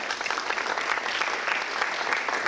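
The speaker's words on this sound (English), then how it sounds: "we can give GSU TV for interviewing me about Panther Cash and a signal round of applause" An audience at a student government meeting gives a round of applause, steady dense clapping from many hands filling the room throughout.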